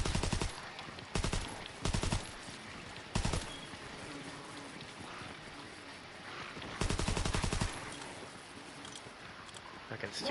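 A gun fires in a VR video game in short, loud bursts of rapid shots, about six separate volleys spread across the stretch, with quieter background and a voice faintly present in between.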